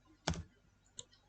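Two keystrokes on a computer keyboard while a spreadsheet formula is entered: one crisp click, then a second lighter tap, close and alone.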